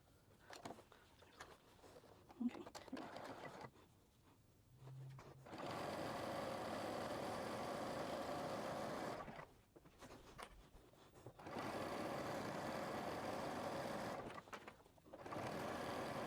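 A sewing machine top stitches a leg of stretch shorts using a stretch stitch, running in two long steady close bursts separated by pauses of fabric handling and faint shuffling.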